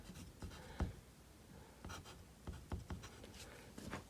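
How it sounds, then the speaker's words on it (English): A pen writes by hand on paper, faint close scratchy strokes in short irregular bursts, quiet and alone. "I write down how long I was walking, so I write down 38 minutes."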